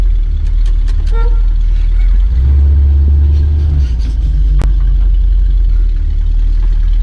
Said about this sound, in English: I didn't know the horn worked.